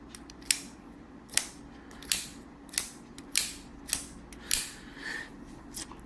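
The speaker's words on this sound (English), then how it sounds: "the knife is on an axis lock style. It flicks out really easy." Sharp metallic clicks from a Ganzo G718 axis-lock folding knife with aluminium frame and 440C steel blade snapping open and shut, about eight of them at a steady pace, close and crisp.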